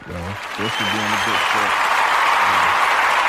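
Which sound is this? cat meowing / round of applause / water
round of applause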